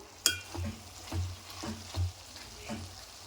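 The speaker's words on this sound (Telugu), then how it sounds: "ఇలా చేసుకోవాలండి, ఇలా ఫ్రై చేసుకోవాలి." Softened brinjal pieces frying in a pan, a soft sizzle broken by a sharp initial clack and several muffled stirring thumps at a slow, uneven rhythm, close and quiet, no talk.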